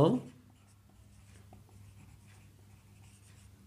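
A pen scratches faintly on paper while working out a Class 5 percentage maths problem. The short, soft strokes are close by in a quiet room.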